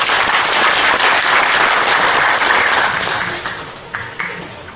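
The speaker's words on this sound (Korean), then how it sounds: "윤석원 교수님 큰 박수로 모시겠습니다." A lecture-hall audience at a Korean National Assembly forum on rice policy applauds to welcome a speaker. The clapping is dense, loud and sustained, then thins out and fades near the end, with a few isolated claps.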